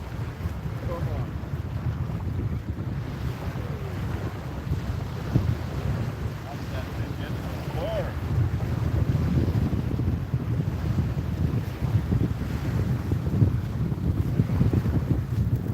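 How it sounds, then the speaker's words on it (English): Steady wind buffeting the microphone outdoors over saltwater while surf fishing, a constant low rumble with gusts rising and falling. "It has gotten quite windy out here"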